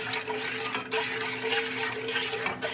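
Water being poured into vinegary pickle brine, a steady splashing, gurgling flow that runs continuously with small surges.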